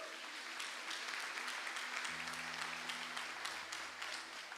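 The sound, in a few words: church congregation applauding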